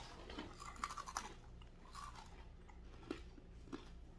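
Ukrainian MRE breadsticks being bitten and chewed close up, with a few quiet, sharp crunches in irregular bursts and soft chewing in between, no talk.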